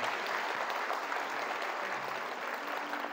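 Audience applause fills a motivational seminar hall in Bandung: dense, steady clapping from a large crowd sustained evenly throughout, with no talking over it.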